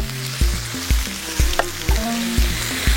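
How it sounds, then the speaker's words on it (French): Meat and small pieces of vegetable sizzle loudly in a hot pan, with a steady crackle broken by repeated scraping and clanking as the food is stirred and turned roughly every half second. "On va retourner la viande. C'est important que les 2 côtés cuisent."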